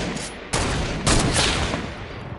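Gunfire in Fortnite comes as dense bursts of rapid shots, loud and close, with a fresh volley starting about every half second, and no talking over it.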